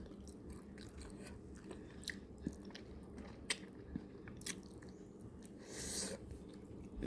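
Close, quiet crunching and biting of fried fish with soy chili sauce, several sharp crisp bites scattered among softer wet chewing over a few seconds.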